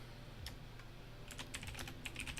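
Quiet, close keystrokes on a computer keyboard come in short irregular bursts of clicks over a faint background hum, with no talking.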